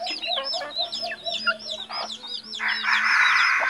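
A breeding pair of labuyo, or red junglefowl, call close by with quick, repeated chirping clucks and squawks that build into a denser burst toward the end.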